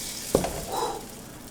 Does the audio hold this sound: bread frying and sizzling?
yes